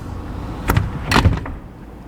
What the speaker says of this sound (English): now let's just test out the sliding door a little bit